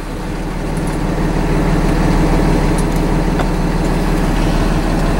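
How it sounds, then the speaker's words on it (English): A tractor trailer truck engine idles steadily up close in low gear, a constant deep rumble with no talking. "I'm going to put my truck in a low gear."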